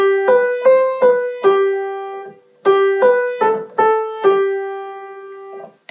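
Right-hand piano melody from a pop song, a later section of a primer arrangement, with repeated single notes in short rhythmic groups and a brief gap midway, clean and close with no voices.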